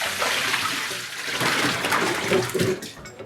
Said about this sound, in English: Pour this water off.